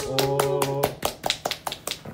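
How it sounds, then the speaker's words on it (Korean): A handful of people clap for a guest in a small studio, a few sharp claps over a brief spoken word, then thinning into scattered lighter claps. "일단 박수"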